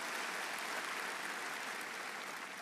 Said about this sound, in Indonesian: Tepuk tangan yang keras untuk Tuhan.